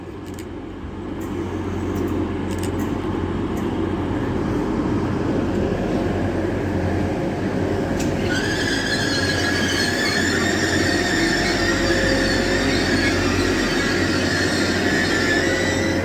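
Grand Central Class 180 diesel train at Finsbury Park station, a loud continuous engine rumble with rising high-pitched squealing from about halfway through, sustained and close.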